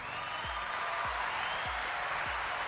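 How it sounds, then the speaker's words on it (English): Live studio audience applause during a Bitcoin talk show, heard as a steady, dense wash of noise for the whole stretch, with soft low thumps recurring at an even pace beneath it. "Round of applause from the live studio audience for Aaron."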